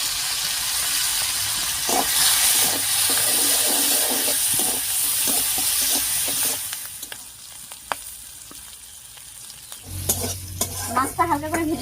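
Small local shrimp fry in hot oil with a loud, continuous close sizzle and stirring scrapes that ease into quieter, sparser crackles and clinks near the end.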